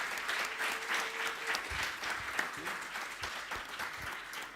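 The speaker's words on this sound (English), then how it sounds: "I would like that we have an applause for our three panelists" A conference audience applauds panelists at the close of a panel session, a steady round of clapping from a moderately sized crowd, fairly soft and continuous, with no one speaking over it.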